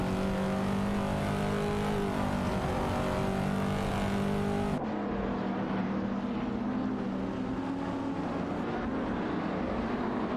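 Race cars in a racing video game, including a Porsche 911 996 GT3 and a Mazda MT900, roar continuously with loud sustained engine drone and shifting pitch, then a sudden change in tone midway as the engine note drops.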